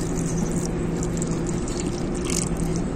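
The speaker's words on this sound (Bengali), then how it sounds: "তো এরপর আমি এর মধ্যে দিয়ে দেব জল।" Water poured steadily into a hollowed bottle gourd stuffed with marinated dal, a continuous close trickling stream with no talk.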